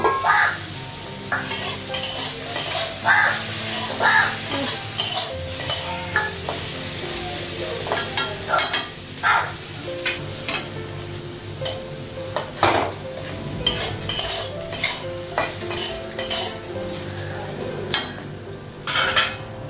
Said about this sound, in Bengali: করলা ভাজাটা হয়ে গেছে, গ্যাসটা বন্ধ করে দিলাম।